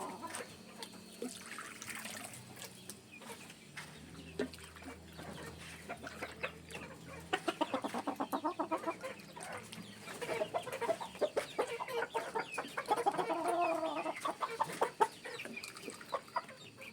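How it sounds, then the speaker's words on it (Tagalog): Chickens clucking and calling in a busy coop, with scattered sharp bird sounds, rustling and some splashing water, the calls getting denser toward the end. "Pagkatapos ko magpainom ng mga manok ay pinakawalan ko na ang mga cockerels na nasa brooder."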